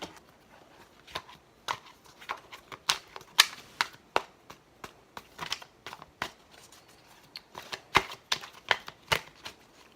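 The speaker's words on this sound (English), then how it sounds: "I cannot shuffle today," Playing cards being shuffled repeatedly in a quiet room, crisp riffling bursts and flicks that come in an uneven rhythm, close and fairly soft, with no talk.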